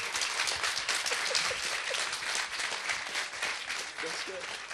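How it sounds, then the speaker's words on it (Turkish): Studio audience applause on a 1996 Turkish children's TV show, a dense wash of clapping lasting several seconds, fairly distant and even, with brief voices mixed in. "Alkışlar mıyız lütfen?"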